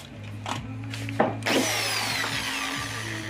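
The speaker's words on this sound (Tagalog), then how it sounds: "Butasin na natin." A power drill bores a hole into the body of a 2006 Kia Picanto, starting with short bursts and then settling into a steady, close, high-pitched whine that carries on to the end.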